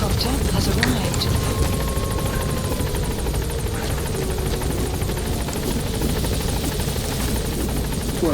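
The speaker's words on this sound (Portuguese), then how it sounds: "Support helicopter has arrived." A support helicopter arrives in Metal Gear Solid V, its loud rotor thrum droning continuously and close throughout, with radio-style voices talking over it.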